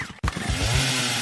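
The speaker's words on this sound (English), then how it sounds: "is that a chainsaw?" A chainsaw starts abruptly after a brief pause and runs loud and close at a steady, buzzing high idle with a pulsing rhythm.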